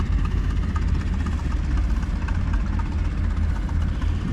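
An old two-cylinder tractor engine idles at an old-fashioned threshing bee, a steady low, loud throbbing rumble with constant vibration and no talk.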